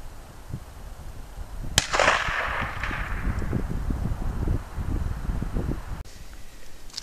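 A single rifle shot of Tula 124 grain hollow point ammunition fired at a 250-yard target outdoors, one loud sharp crack with a trailing rumble over steady wind and rustling.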